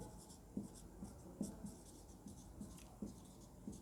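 Chalk or marker strokes on a board during a lecture on horizontal thrust, a series of short faint scratches and taps in a quiet room, with no talk.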